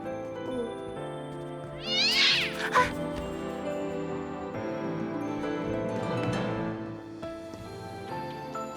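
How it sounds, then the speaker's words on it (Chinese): A cat lets out a short, high meow partway through, with a fainter mew afterward, over a steady musical background. "是只小猫"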